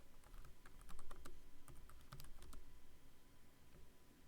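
Someone types code comments on a computer keyboard, producing quiet, irregular clusters of key clicks that tap along at a moderate pace and then thin out toward the end.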